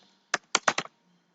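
A school name typed on a computer keyboard: four crisp, close key clicks in a quick uneven burst, then silence.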